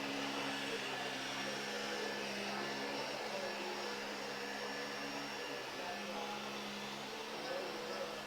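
A battery-operated vacuum cleaner runs steadily and fairly quietly, giving a continuous motor whine and airy hiss with no breaks.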